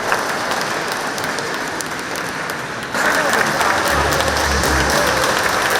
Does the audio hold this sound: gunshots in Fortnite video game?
no